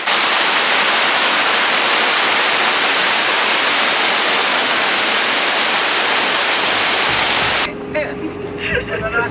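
Stream water rushing through a canyon in Argentina makes a loud, steady hiss that fills the scene. It cuts off abruptly near the end, leaving quieter outdoor sounds.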